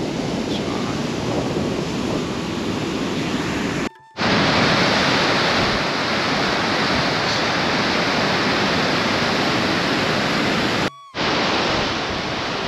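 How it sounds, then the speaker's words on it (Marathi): The Alaknanda river rushes hard over boulders on a Himalayan trek route toward Satopanth, a loud, steady broadband roar filling the whole clip, broken only by two brief dropouts. "अलकनंदा नदी बघा किती जोरात वाहते"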